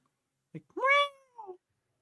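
A cat gives a single clear, drawn-out meow with a short chirp before and a brief trailing call after, close and quiet.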